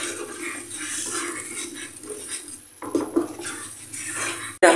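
Wine sauce with salt and sugar being stirred in a pan for a Portuguese bitoque steak: soft scraping and clinking of a utensil against the pan over a faint hiss, with a louder clatter at the end.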